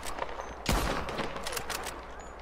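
Video game gunfire aimed at the player: a heavy burst of shots hits at once, followed by a rapid scatter of crackling rounds, fairly close and loud, with no talking over it.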